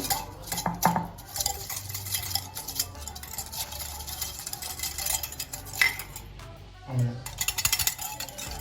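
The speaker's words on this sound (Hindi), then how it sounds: "इसको भी विस्क करना है हमें" Coffee and sugar are whisked by hand in a kitchen bowl for dalgona coffee, a rapid, continuous scraping and clinking of metal against the dish with a few louder knocks, close by.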